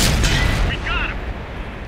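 Artillery shells booming in World of Tanks on Xbox, a loud heavy blast at the start trailing into rumbling echo, with a short whistling game cue in the middle and no voice.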